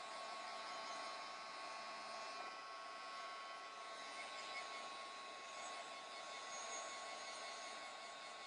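Heat gun set to heat, blowing a steady airy roar across a mixed media scrapbook layout, held constant and fairly loud throughout with no breaks.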